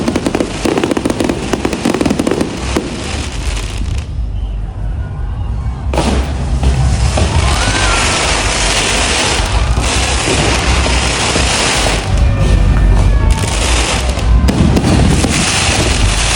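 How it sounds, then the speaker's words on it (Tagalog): A fireworks display at the Ati-Atihan festival in Magsaysay fills the air with dense, continuous crackling and booming bursts, loud and overlapping throughout, with crowd noise underneath. "para manood ng firework display"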